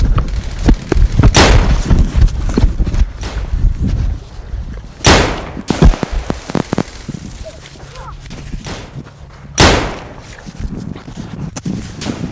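Heavy artillery and gunfire tear through a battle scene, with loud booming blasts and rapid cracking shots over a dense, continuous rumble.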